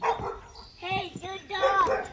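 A dog whimpers and gives high, short yipping whines in quick bursts close by, loud and clear in a quiet room.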